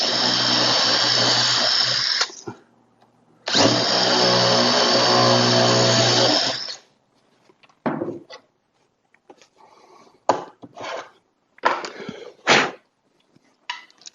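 A power drill bores dowel holes through a dowel jig in two sustained bursts of whining drilling, each about three seconds long. Short clicks and knocks follow as the jig is adjusted.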